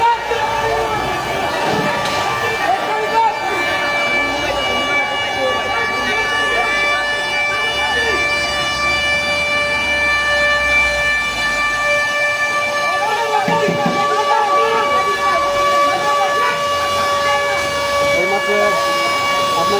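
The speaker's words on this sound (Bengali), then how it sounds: "যে অ্যাম্বুলেন্সের গাড়ি এসেছে" A steady wailing siren sounds at a hospital in Narayanganj, where an ambulance carrying a patient exploded and burned. The siren holds a fairly loud, sustained tone over crowd noise, and people talk throughout.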